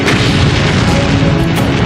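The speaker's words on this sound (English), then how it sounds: "The British battleships open fire." British battleships firing naval artillery: a dense, loud rumbling boom that sustains without break for about two seconds, heavy and close, with no voices.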